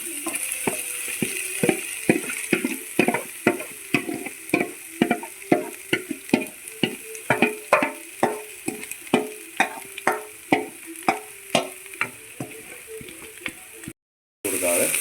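Banana flower being stir-fried in a pan for a Kerala thoran, with a steady series of sharp clattering spatula strokes and a soft sizzle beneath, close and fairly loud, with a brief gap near the end.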